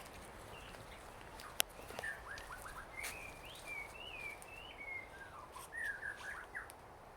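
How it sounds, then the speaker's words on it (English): A bird on Wiliwilinui ridge gives faint, repeated warbling chirps and twittering phrases over quiet outdoor background, with a brief click early on. "There's a bird talking over here"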